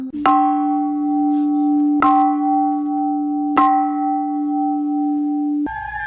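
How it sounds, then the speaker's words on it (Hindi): A large bell in a horror story tolls three slow, loud, resonant strikes, each hum ringing on and fading before the next, then a shift to a higher tone at the end. "तभी घंटा बजने लगा।"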